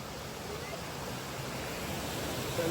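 Fast, heavy water rushes steadily at a waterfall, a dense broadband roar that stays loud and unbroken throughout.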